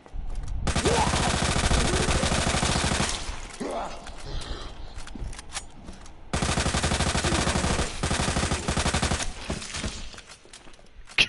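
Rapid automatic gunfire bursts loud and close in Resident Evil 2 Remake, two long sustained volleys with a short gap of scattered shots and impacts between them.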